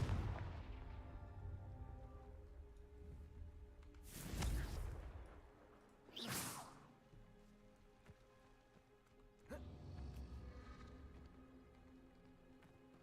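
Confringo fire-blast spell cast in the Hogwarts Legacy video game, heard as two loud bursts a couple of seconds apart plus a weaker one later, over a steady backdrop of game ambience and music.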